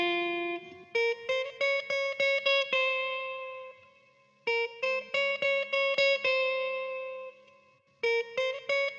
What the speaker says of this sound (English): just the guitar plugged into the interface. Then I added some reverb, some RC20, shaper box to pan the melody from left to right